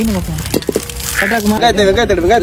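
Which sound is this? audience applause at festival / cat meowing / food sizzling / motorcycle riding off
food sizzling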